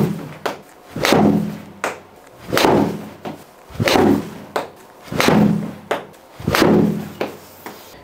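Wedge strikes on Titleist Pro V1 golf balls, five sharp, solid impacts spaced about a second and a half apart, each a crisp thwack with a short decay, close and fairly loud, no voices.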